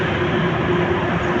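Motorcycle engine running without oil, a loud, close, steady droning whir with a chopping, helicopter-like hum that holds even throughout.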